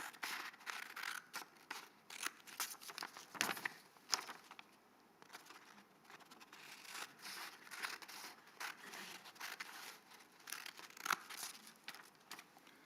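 Scissors snip through paper in a quiet run of crisp, irregular cuts, with faint crinkling as the sheet moves between strokes; no voices.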